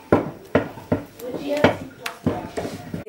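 Thick maize meal porridge being beaten hard in a pot, a series of loud rhythmic thuds and scrapes of the spoon against the pot, close, roughly two strokes per second, with people talking alongside.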